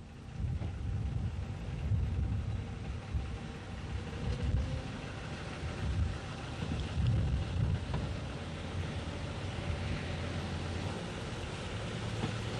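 Irish narrow gauge railcar number 15, a 1936-built 41-seat diesel railcar, shunting at Ballyshannon: a steady low engine rumble and drone that continues throughout with slight swells, heard fairly close in open air with some wind.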